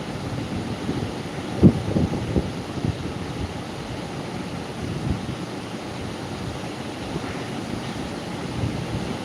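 Waves from the Arabian Sea break at a beach near Mangalore in a continuous, loud roar, mixed with gusty wind buffeting the microphone.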